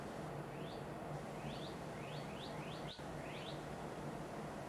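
Small birds singing outdoors: a series of quick, bright upward-sweeping chirps, several in close pairs, repeating over a constant low background hum at moderate distance.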